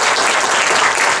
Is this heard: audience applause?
yes